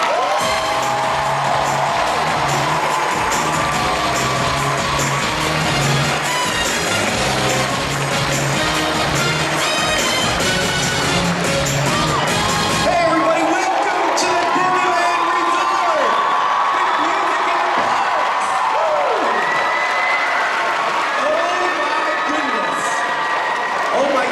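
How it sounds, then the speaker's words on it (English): Crowd noise with applause and cheering at the 2017 Music in the Parks awards ceremony, loud and sustained at first, then thinning to scattered whoops and voices. "put your hands together for Mr. Jim Ha"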